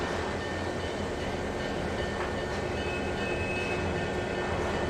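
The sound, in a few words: train running in the video game Trainz 2022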